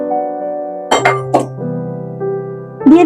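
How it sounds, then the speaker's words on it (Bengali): Dried peas tipped into a bowl of water for oil-free ghugni, heard as a few short clattering bursts against a steady humming tone, the last burst coming just before the end. "এবারে আমি মটরগুলো দিয়ে দিচ্ছি"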